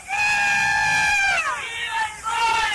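Nicaraguan baseball fans of the Boer team shout their rallying cry, a loud, sustained, chant-like crowd yell that rises, dips and rises again over about three seconds.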